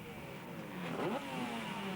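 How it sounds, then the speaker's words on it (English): Water-cooled 500cc four-cylinder sidecar racing outfits at Brands Hatch, engines droning at mid distance, one rising in pitch as it passes, steady and fairly faint. "Three-wheel racing cars, no less. 500 cc's, four-cylinder, water-cooled"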